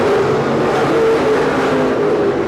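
Open wheel race cars at Seekonk Speedway roar in a loud, steady wall of engine noise, several cars droning together at high revs without letup.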